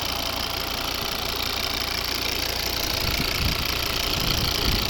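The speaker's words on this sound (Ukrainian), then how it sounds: "Ось робота двигуна." Idling 2011 Volvo V60 R-Design with the 2.0 D3 diesel engine and automatic gearbox, a steady, dense diesel rumble with a faint knocking texture that runs unbroken throughout, close by and with no talk.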